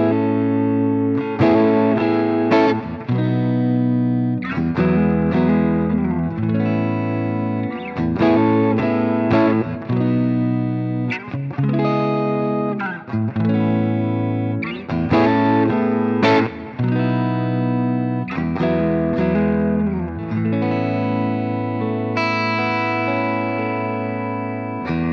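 An electric guitar plays warm, rounded chords and riffs with a slightly driven, effected tone, continuous and loud for the whole stretch.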